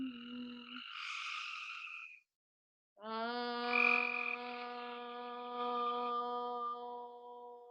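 Frogs croak loudly and close by in long, rasping calls, with a brief silence between two bouts, heard alone.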